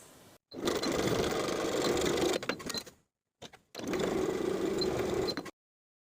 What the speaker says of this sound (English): We're going to sew horizontally on both sides of that shoulder seam with a 3/8 inch seam allowance for both sides